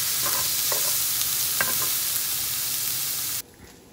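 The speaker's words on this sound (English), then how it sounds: "And just stir this for about a minute until the garlic becomes fragrant." Onions, squash and garlic sizzling steadily in a pan while a utensil scrapes and stirs in several short strokes, then the frying cuts out abruptly near the end.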